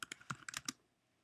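Keys clack on a computer keyboard in a quick irregular burst of about six close, crisp taps, then quiet.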